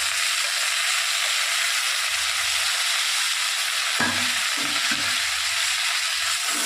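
Jackfruit and potato frying in a pan as ginger, cumin and dried chilli pastes are stirred through, a steady close sizzle with a brief louder scrape of stirring partway, no voices.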